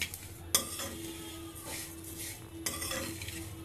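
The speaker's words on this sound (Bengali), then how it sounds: "কালো সর্ষে, সব একসাথে ভেজে নিচ্ছি" Black and white mustard seeds with spices being stir-fried together in a pan for a capsicum and chili pickle, with a steady soft sizzle and scraping, utensil clinks against the pan near 0.5 and 2.7 seconds, close and moderately loud.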